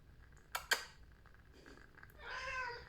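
A house cat meows late in the evening, wanting to go outside: two sharp clicks, then a drawn-out, fairly faint meow close by indoors, with no talk over it.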